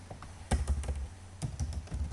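Keys clack in quick irregular bursts as code is typed into a class on a computer keyboard, close and fairly loud with short pauses between runs of strokes.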